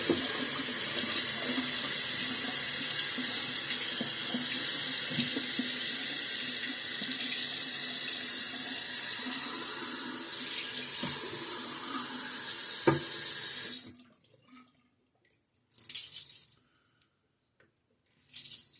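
A water tap runs steadily into a sink while a natural-bristle shaving brush is rinsed, a loud continuous splashing rush that stops abruptly, followed by a couple of short bursts of flow.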